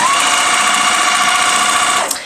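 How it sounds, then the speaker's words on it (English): A sewing machine runs one continuous fast whirring burst while stitching the last seam of a quilt, loud and close, stopping abruptly near the end with a small click. "now we're gonna sew our last seam and then we're gonna be done"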